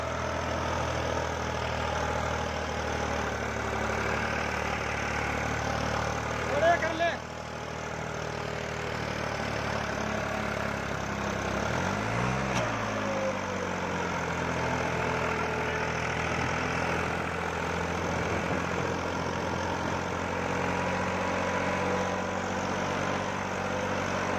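A tractor engine in first gear idles steadily at a low rumble throughout, with a brief clunk and a short pitch dip partway through.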